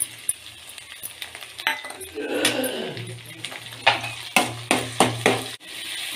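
Vegetables sautéing in a pan with eggplant and tomato, a low sizzle under repeated clinks and scrapes of a utensil stirring against the pan, close and rhythmic.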